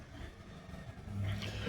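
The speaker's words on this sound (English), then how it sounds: "you're going to hear buses and cars and everything else pass by." Cars pass along a street, with a low engine rumble that swells as a vehicle accelerates past at moderate distance.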